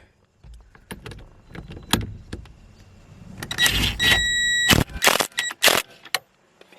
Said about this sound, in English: Get trusty old rattle gun.